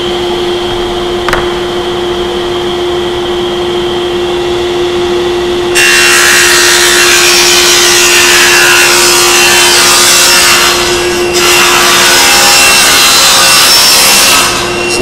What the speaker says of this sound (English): now we're going to pass this plywood through the saw